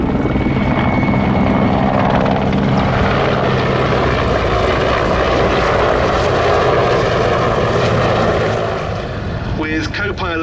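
Loud, close Mi-24 helicopter lifting off after a touch-and-go landing at the Duxford Battle of Britain airshow, a steady heavy rotor and engine roar throughout, with a voice talking over it.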